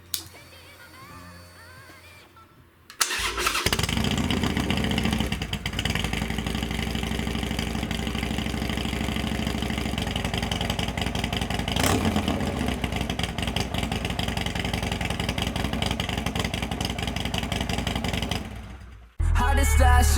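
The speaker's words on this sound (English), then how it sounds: "I'm gonna wipe the pipes down and then fire her up and see how she sounds." A 2017 Harley-Davidson Roadster stunt bike build starts up after about three seconds of quiet. It settles into a loud, steady idle close by and gets a few blips of revving, then cuts off near the end.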